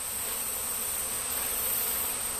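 Honeybees buzz continuously at an open beehive during a hive inspection, a dense, steady drone of many insects close by with no pauses.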